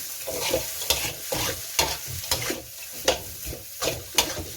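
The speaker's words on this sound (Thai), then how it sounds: "แล้วเราก็ผัดเลยค่ะ ระหว่างที่เราตัดไปเราก็ใส่หอมใหญ่ลงไปเลอนไคะ" Onion and carrot stir-fry in a hot pan for crispy pork fried rice: a close, even sizzle under rhythmic scraping stirs, about two strokes a second, with no voices.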